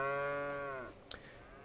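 Cows in the Farming Simulator 25 video game give one long, drawn-out moo that fades away, followed by a faint short click.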